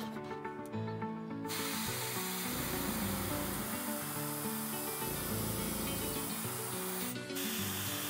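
An airbrush sprays fluorescent yellow paint onto a lipless crankbait lure, giving a continuous close hiss with brief pauses and short breaks in the spray.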